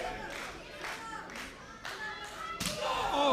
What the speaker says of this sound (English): crowd coming alive for Carter here.